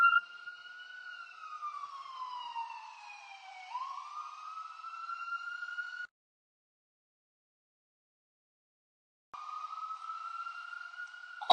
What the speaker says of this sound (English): I didn't want the ambulance to be too blaring while I'm trying to make my video